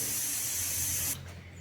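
A steady, bright sizzling hiss of food frying in hot oil that cuts off abruptly near the end.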